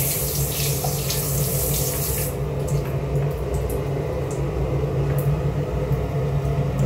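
Water gushes steadily into a toilet bowl with a crusty, stained surface, a continuous close splashing rush that settles into a constant flow.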